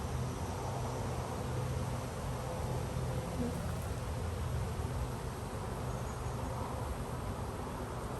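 A honeybee swarm being installed gives off a faint, continuous buzzing drone that stays even throughout with no talk.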